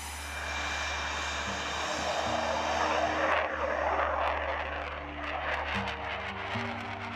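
Military aircraft engines keep running during hot pit refueling, giving a steady, loud, close turbine roar with a constant whine that holds throughout, with no voices.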